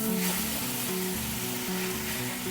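Drumstick leaves sauté in hot oil with a steady, close, crackling sizzle that holds evenly throughout, with no voices.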